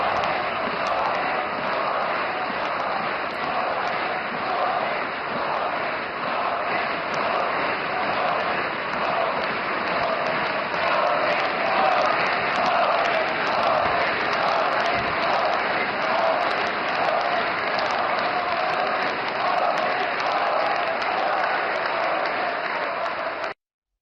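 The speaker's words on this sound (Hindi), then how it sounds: "नीतीश कुमार और चंद्रबाबू नायडू भी तालियां बजाकर प्रधानमंत्री मोदी का अभिनंदन कर रहे थे" Sustained applause fills a large hall as an audience at an NDA meeting claps for Prime Minister Modi, a dense, even wash of clapping with crowd murmur, steady throughout.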